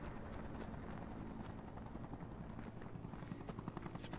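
Helicopter rotor drone from the video game Fear the Wolves, a steady low churning thrum held alone throughout at moderate distance, with a sharper burst near the end.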